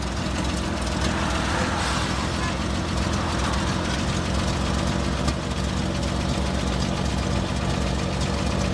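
A low, rough engine of an old Bedford QL WW2 army lorry idles steadily and loudly, with a rattling, knocking texture from a loose, falling-off exhaust throughout and no pauses.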